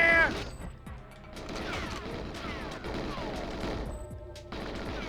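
Gunfire in the video game Goldeneye 007 on an Analogue 3D console: rapid bursts of shots and crashing impacts fill a busy, continuous game soundscape, with only a little talk.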